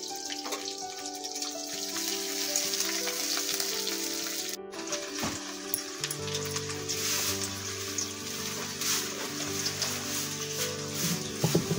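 Chopped onions sizzle and crackle steadily in hot mustard oil for a chicken skin curry, a continuous close frying hiss with faint tonal sounds in the background.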